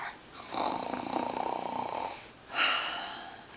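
A person's voice imitates a loud, rumbling snore of a sleeping hound dog, two drawn-out snoring breaths close to the microphone with a brief pause between them.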